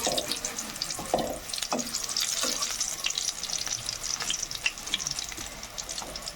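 Bombay chili chops deep-fry in oil at a snack shop, a dense, close hissing sizzle with scattered crackles and pops that runs steadily throughout.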